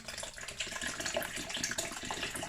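Coconut water poured from a one-litre container into a jug for a virgin mojito, a steady close splashing pour running continuously without a break and with no talk.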